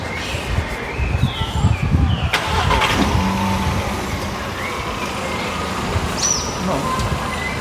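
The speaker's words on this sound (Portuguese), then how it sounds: "Vai ter um barulho de carro agora saindo" On a quiet street in Peixoto, Copacabana, a car engine starts with a rumble, then the vehicle pulls away and fades into the distance, leaving steady city background noise and faint birds.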